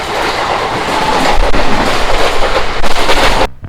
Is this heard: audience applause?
no